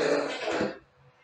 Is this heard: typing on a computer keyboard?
no